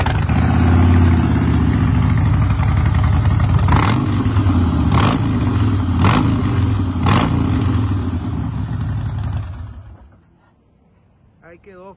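A 2015 Harley-Davidson Breakout motorcycle engine with 33,000 km idles loudly with a deep, steady rumble, punctuated by several sharp revs, then cuts off abruptly, leaving near silence.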